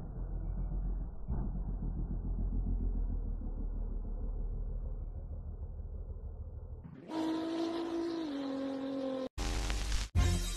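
A show-off car exhaust rumbling low and steady for several seconds, then revving hard into a louder, rising roar with a couple of sharp cut-off bursts near the end, no talking.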